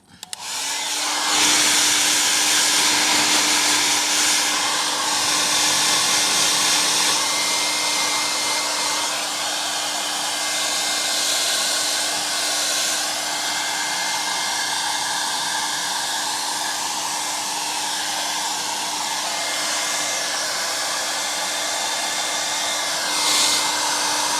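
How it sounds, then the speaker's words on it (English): A hairdryer dries paint on a leather steering wheel, a steady, close blowing roar with a constant whine that starts abruptly and runs almost unchanged for over twenty seconds. "I'm going to grab that hairdryer again, and just dry this layer of paint that I've just put on."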